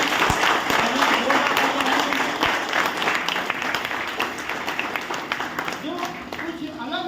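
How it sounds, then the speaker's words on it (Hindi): An audience at a training seminar in Sultanpur claps together in a loud, dense burst that gradually thins and fades, with some voices underneath. "तो एक बार हम ताली देंगे"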